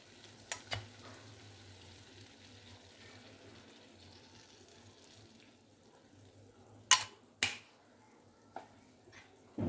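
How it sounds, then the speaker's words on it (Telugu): Chicken frying in oil after its water has cooked off makes a low, soft steady sizzle, with a few sharp pops and clicks near the start and toward the end, no talking. "ఇప్పుడు ఫ్రై అయ్యిద్ది బాగా. ఇప్పుడు నీరేం లేదు, ఓన్లీ ఆయిల్ ఉంది."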